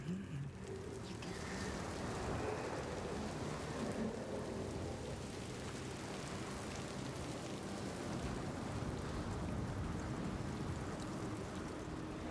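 A storm rages in the video game Senua's Saga: Hellblade II, with steady heavy rain and a low, rolling rumble of thunder beneath it, sustained and fairly quiet throughout.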